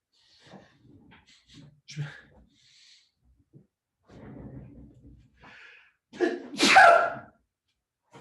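A loud, sharp sneeze bursts out near the end, preceded by scattered quiet speech and shuffling.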